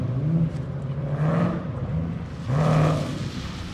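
A car engine revs loudly while drifting in long surging pulses, rising and falling twice, with a whirring roar close by and no talking.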